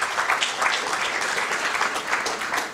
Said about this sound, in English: This deserves a big round of applause